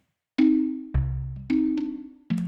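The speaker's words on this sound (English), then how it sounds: "Most of these xylophone-ish marimba patches." Mallet-like, marimba- or xylophone-style notes from a patch on a Klevgrand Tomofon sampler: five struck tones with bright attacks and ringing sustain, including a lower note with a deep body, played close and alone.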